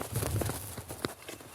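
Horse hooves stepping on the ground during groundwork training, a few soft, irregular thuds close by with a low background rumble and faint speech in the background.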